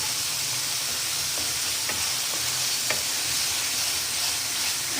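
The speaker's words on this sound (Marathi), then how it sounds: "हे मीडियम टू हाय फ्लेमवरती करायचं, फक्त करपू द्यायचं नाही" Masala corn sautés in a pan over a medium-high flame, giving a steady close sizzle with occasional stirring scrapes and no talk.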